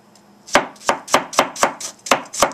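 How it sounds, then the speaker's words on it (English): A kitchen knife chops tomatoes on a cutting board: eight crisp, evenly spaced strikes, close and clear, with no talking over them. "Right now I'm chopping tomatoes."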